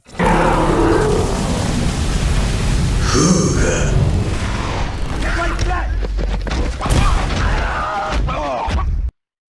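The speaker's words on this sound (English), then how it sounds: "But for right now, this is Dante's ultimate." A fire-based ultimate attack in the Roblox game Jujutsu Shenanigans, heard as a sustained loud roaring rumble with booming bursts and crackling impacts over about nine seconds, ending abruptly, with game voice effects mixed in.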